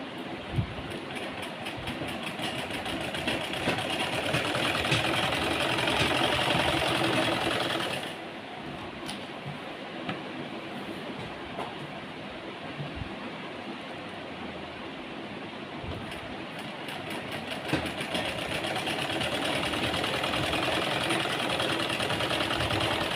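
A sewing machine stitches lace onto a salwar cuff with a steady, close mechanical whir and rattle that eases briefly partway through, then runs on continuously without talk.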